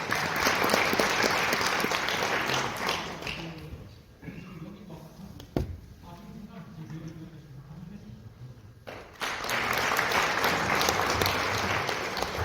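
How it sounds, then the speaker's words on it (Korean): Audience applause welcoming a university president to the podium at a CEO seminar in a hotel hall, loud clapping that fades into a quieter stretch with a sharp knock and faint voices, then swells again. "박수로 맞이해 주십시오."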